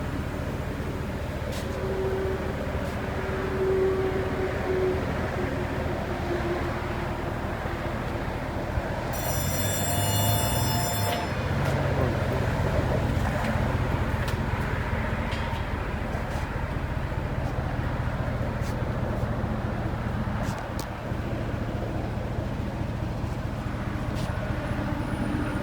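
A lifted GMC Sierra or Chevy Silverado with a 5.3L V8 and aftermarket exhaust idles steadily nearby, a deep, even low rumble holding throughout with faint background noise.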